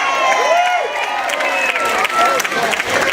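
A concert audience applauds and cheers loudly for a singer. Dense clapping mixes with shouts and rising whistles, surging and then sustained.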